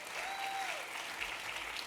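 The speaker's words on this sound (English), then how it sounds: "That's your cue to applaud again." Audience applause at the 2024 Manhattan State of the Borough address, a steady, dense clapping from a large crowd that fills the whole stretch without a break.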